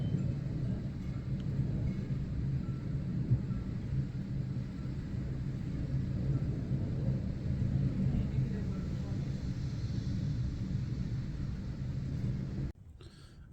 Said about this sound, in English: The wind outside sounds like a train going by.